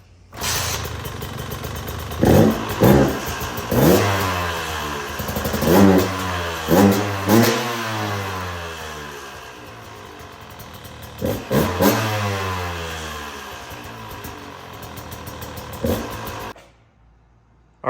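A 2016 Husqvarna TE 125 two-stroke dirt bike fires up and revs hard in a series of loud, rising and falling blips close to the microphone, then idles briefly before cutting off abruptly.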